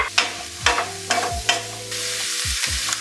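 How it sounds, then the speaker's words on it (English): Green onion, garlic and ginger frying with beef, a bright sizzle punctuated by four or five sharp spatula strikes and scrapes against the pan in quick succession, close and fairly loud. "We're going to add our aromatics. So that is your green onion, garlic, and ginger."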